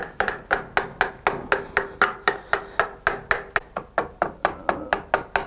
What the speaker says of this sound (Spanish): José Luis recurre nuevamente a la azuela para repasar la forma de la pieza.